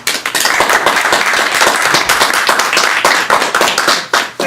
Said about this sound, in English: If you would clap your hands, please.